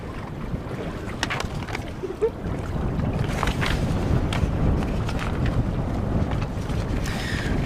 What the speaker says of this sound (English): Wind is picking up here a little bit on the surface.